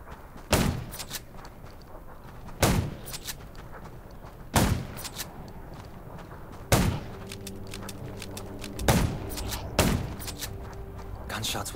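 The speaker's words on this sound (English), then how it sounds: "Gunshots will attract more zombies." Gunshots ring out while fighting zombies in the survival shooter Undawn, with six loud, sharp blasts spaced about two seconds apart over a steady background rumble of game ambience and music.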